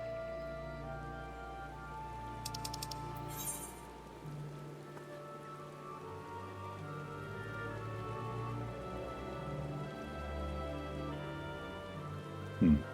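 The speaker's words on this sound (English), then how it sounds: "A light drizzle, but it's raining." Light drizzle falling in the Final Fantasy XIV forest, a soft steady patter of rain running the whole time beneath low game ambience and music.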